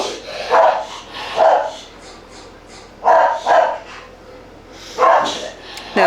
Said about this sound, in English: now that is my dog.